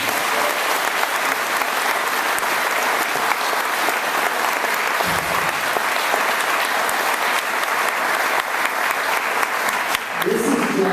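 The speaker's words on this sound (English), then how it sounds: "Let's give Caleb a round of applause." A banquet audience at a 2013 CSU volleyball banquet applauds Caleb, a loud, dense, steady wash of clapping that carries on evenly for the whole stretch before tapering at the very end.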